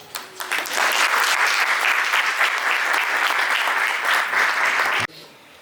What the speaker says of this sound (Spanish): un aplauso a todas las presentes